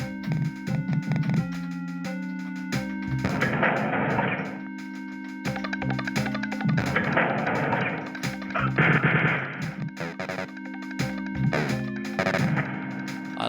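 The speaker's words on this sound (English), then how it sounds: "I like the sounds these treasures make." Tones, chimes and bursts of gunfire from a 3D DOS video game sound together in a busy run, with repeated bright pickup jingles and shots, and no voice.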